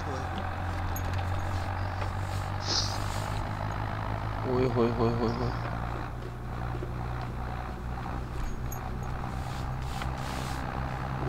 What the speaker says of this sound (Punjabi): ਤੁਸੀਂ ਆਵਾਜ਼ ਸੁਣੋ ਯਾਰ ਟਰੈਕਟਰ ਦੀ